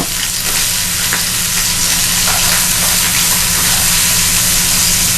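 Scallops sear in olive oil in a hot pan with a steady, loud, close sizzle that holds unbroken throughout, with no voices over it.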